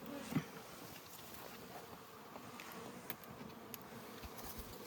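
Honey bee buzzing close to a beekeeper at the hive, a faint wavering drone over quiet outdoor background with a few soft bumps and clicks.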